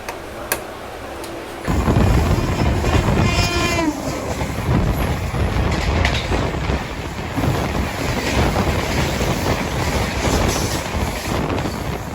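A steady, loud rumble and rattle of the moving New Delhi to Dehradun Jan Shatabdi Express passenger train, continuous and broadband, starting abruptly after a quieter moment.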